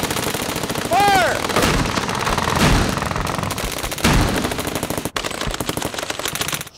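A tank firing its main gun at Fort Knox: heavy, loud booming blasts with a continuous roaring rumble underneath and sweeping whine, faint voices buried in the din.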